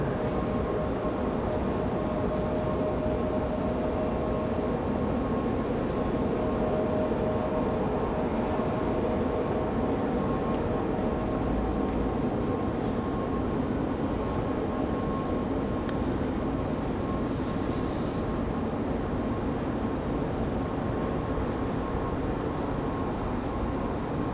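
An Airbus A321 jet takes off from runway 5 right at Raleigh Durham airport, a broad, sustained engine roar heard from a distance that holds steady and loud throughout.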